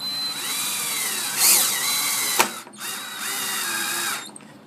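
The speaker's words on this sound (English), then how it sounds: "I'm just putting a screw in here" Power drill driving a screw into two sandwiched pieces of plywood, a close, steady whining run that rises in pitch, stops with a sharp click, then runs again briefly.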